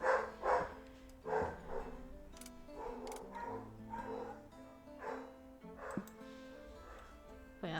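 Dogs barking in bursts from the far side of a house, faint and distant, with a few sharp knocks and clicks between the barks.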